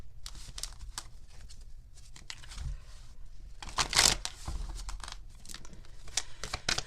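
Tarot cards are shuffled and drawn by hand, with quick papery riffles, soft slaps and crinkling rustles in uneven bursts, close and fairly quiet.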